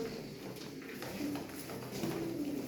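Pigeons kept together in a coop coo softly in low, intermittent bursts against a steady background hum, with no voices present.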